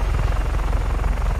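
A helicopter in the video game Just Cause 3 gives a loud, continuous rotor thump with dense low-end chop throughout, up close, with no voices over it.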